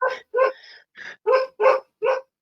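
Dogs bark close and loud in a quick run of about six sharp yips and barks, alone with no other sound.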